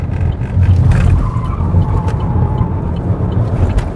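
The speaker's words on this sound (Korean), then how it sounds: "좌회전 조금 세게 돌아볼게요" A Chevrolet Malibu 2.0 turbo takes a hard left turn, its tires squealing in a sustained, close whine over steady road and engine rumble, with no voices.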